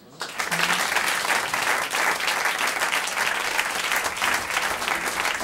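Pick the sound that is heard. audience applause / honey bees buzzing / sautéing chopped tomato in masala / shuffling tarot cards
audience applause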